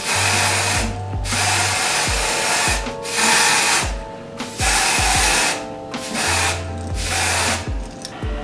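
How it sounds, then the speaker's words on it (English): Repeated bursts of fine lace tint spray hiss onto a wig, each lasting about a second with short pauses between, close by and fairly loud, with no talking. "I'm going to use my lace tint spray"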